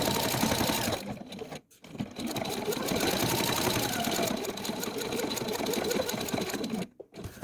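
Sewing machine running through quilt fabric scraps, a continuous rapid stitching whir that breaks off briefly twice with short pauses, loud and close.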